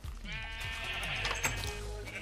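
A Minecraft sheep bleats in the blocky video game, giving several wavering, nasal bleats in quick succession over a steady game background.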